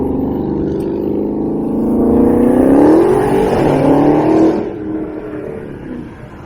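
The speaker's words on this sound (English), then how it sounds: "Unnecessarily loud car." A loud car revs hard as it passes close by on a Toronto street in the Junction along Dundas Street West, its engine note swelling to a peak midway and then fading as it moves off.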